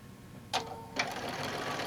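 A sewing machine with a walking foot stitches a quarter-inch seam in fabric, starting with two quick clicks and then running in a short, steady whir close by.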